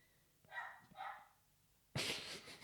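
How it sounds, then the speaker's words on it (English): A dog barks indoors, with two or three muffled, moderately distant barks followed by a sharper, louder burst of noise at the end. "I didn't think he'd bark when I'm doing it."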